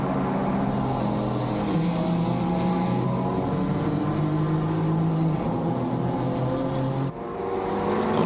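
A Porsche GT4 race car runs at the Hungaroring with a steady, loud engine drone that holds nearly constant, then dips briefly and swells again near the end.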